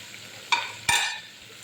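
Garlic and onion sautéing in a pan, a soft steady sizzle broken by two sharp stirring scrapes of a spoon close by.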